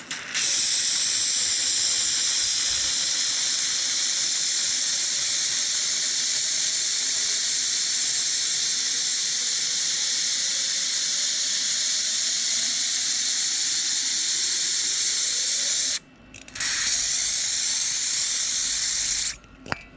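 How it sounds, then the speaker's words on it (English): Brake cleaner sprays through a hose into a fuel injector for back-flow cleaning, a loud continuous hiss that runs almost without a break, stopping briefly twice near the end. "take the hose and try to fill it with brake cleaner"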